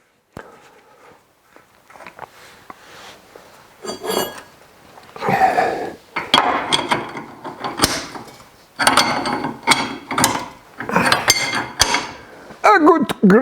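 Metallic clanks, ratcheting and wrenching on a Ford F100 front suspension part being tightened, in irregular close bursts with pauses between, loud and busy near the end.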